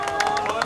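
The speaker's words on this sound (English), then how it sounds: "Why are they clapping?" A brief burst of audience clapping at a magic show after a card trick, a close, busy patter of many hands mixed with light crowd murmur.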